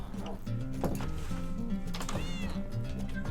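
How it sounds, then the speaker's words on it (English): Cat meows in a Minecraft game, several short cries heard faintly beneath a steady background of talk and game music. "Meow meow meow."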